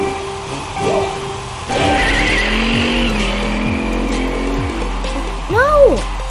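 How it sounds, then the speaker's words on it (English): Racing car in the Nitro Type browser game, a red car, with engine drone and synthetic skids and tire squeals throughout, a sharper rising swoop near the end, and a voice briefly audible under the game sounds. "Let's do a race in this red car."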